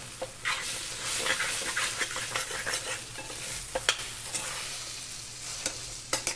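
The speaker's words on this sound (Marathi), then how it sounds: "लसणाची चटणी हे आता आपण मिक्स करून घेऊया" A spoon stirs garlic chutney in a pan over a lowered flame, with steady scraping strokes over a soft, continuous sizzle and a few sharper clinks, close and fairly loud, with no voices.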